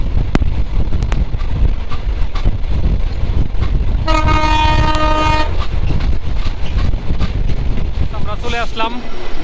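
The Chilahati Express train running from Nilphamari toward Dhaka, a loud continuous rumble with wind buffeting, a sustained horn blast midway and faint horn tones near the end, with background voices.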